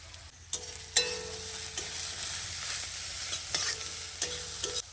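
Turmeric and chili powder fry in oil in a pan for a squid curry, a soft steady sizzle punctuated by several sharp scrapes and knocks of a spoon stirring the spices.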